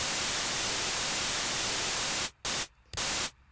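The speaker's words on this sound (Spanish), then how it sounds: "En este caso es ruido blanco" A synthesizer noise oscillator puts out flat, pitchless white noise, a steady broadband hiss that cuts off abruptly a few times near the end, with no talking.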